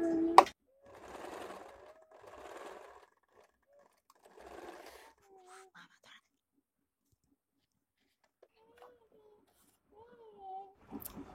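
A sewing machine stitches a square-neck A-line nightie in several short, quiet bursts. Someone speaks softly in the pauses between them.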